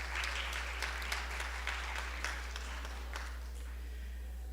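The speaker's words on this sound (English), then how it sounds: "let's have a round of applause for all the people that are staffing the tables here" Audience at a senior-services fundraiser dinner gives a round of applause for the table staff, a steady moderate wash of clapping with scattered sharper claps over a low constant hum.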